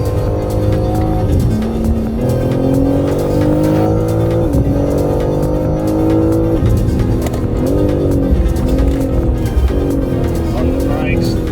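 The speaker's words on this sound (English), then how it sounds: "So we went and found Sid, got him in his car, dropped the hammer and chased him." A BMW M3 Touring chases a Porsche GT3 RS around a racetrack during a classic rally event. Its loud, close engine climbs through the revs and drops sharply at each gear change, repeating steadily with brief tire squeal.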